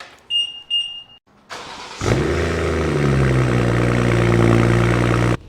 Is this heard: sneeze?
no